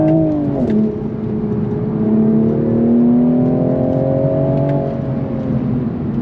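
Sports car with traction control switched off accelerating hard on a track, its engine climbing through a long drawn-out rev with a quick shift near the start, loud and close, no speech.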